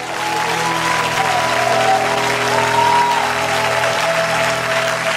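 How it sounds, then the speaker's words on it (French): A church congregation applauds loudly and steadily, a dense wash of clapping that holds from start to finish, with a faint murmur of voices underneath. "Acclame, acclame, acclame, acclame, acclame"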